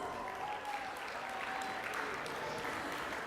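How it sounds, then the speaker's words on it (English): Sustained audience applause fills a sports banquet hall, a steady dense wash of clapping from a crowd, moderately loud and continuous throughout. "Can we give them a big round of applause?"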